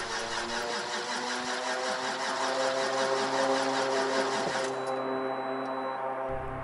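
A diesel engine on the Raptor prototype runs steadily at a close, even idle, a constant droning hum with a slight shift in tone partway through.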